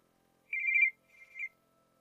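A telephone rings twice, a clear electronic trill followed by a slightly softer second ring, with silence around it.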